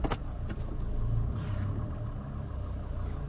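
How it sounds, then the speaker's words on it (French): A car passing close behind a person walking on a road, giving a steady low engine rumble and road noise that swells near the middle and holds alone without talk. "Il y a une voiture derrière moi."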